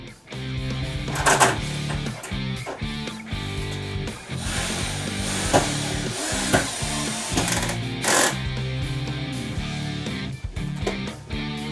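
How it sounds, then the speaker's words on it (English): Power tool punching holes in an outdoor TV enclosure during a garage build, heard as close, repeated whirring and clattering bursts with sharp knocks between them. "Now all I gotta do is really just punch a couple holes in the enclosure, mount it to the wall, and another hole for the power cord."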